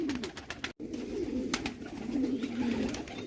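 Pigeons coo in a loft, a steady low murmuring chorus of several birds close by, with light clicks and wing flutters mixed in.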